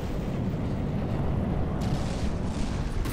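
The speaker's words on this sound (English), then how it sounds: "the torpedoes seem to be working quite nicely, actually" Torpedo explosions in the naval combat video game From the Depths produce a continuous, loud, deep rumbling roar that stays dense and unbroken throughout, with no talk.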